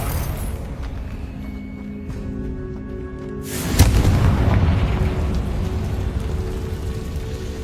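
A Confringo fire spell goes off in Hogwarts Legacy as a sudden loud blast near the midpoint, followed by a sustained roaring, crackling rumble over steady game ambience.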